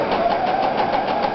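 A sewing machine runs slowly while stitching an elastic gathered sleeve, a steady close mechanical whir with a fast, even pulsing beat of the needle, alone and fairly loud.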